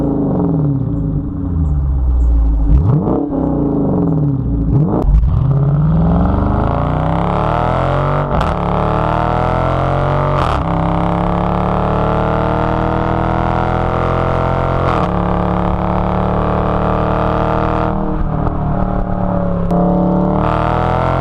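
A 2017 Dodge Daytona with the 6.4 V8 rumbles and revs loudly on its own, the engine note rising and falling through several throttle blips and sweeps, with no voices.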